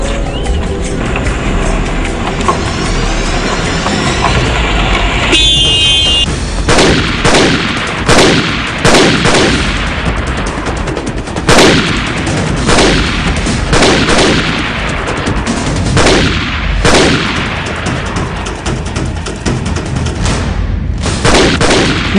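Gunfire in a Pashto action film scene, with loud, sharp shots cracking out in rapid bursts and single reports over a dense, steady roar of action noise throughout.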